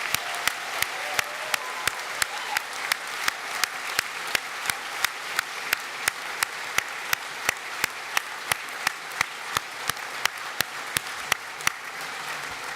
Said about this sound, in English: Let's have one last rapturous round of applause.